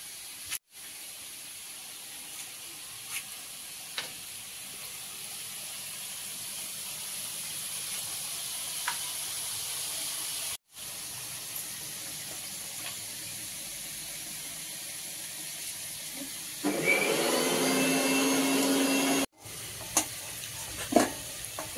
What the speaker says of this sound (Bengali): আলু ভাজা কমপ্লিট হয়ে যাবে।